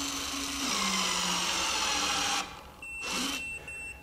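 Hytorc Lion Gun precision bolting tool tightening bolts to 500 foot-pounds, a loud continuous motorized whir for over two seconds that cuts off, then a second shorter burst, close and alone without talk.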